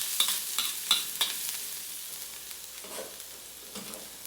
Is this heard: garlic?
yes